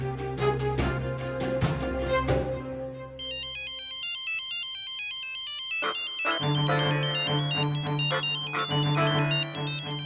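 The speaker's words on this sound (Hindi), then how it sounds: "कम से कम हमारा फोन तो उठा लो।" A phone rings on and on with no one answering, a repeating electronic ringtone at steady volume that follows a stretch of dramatic music.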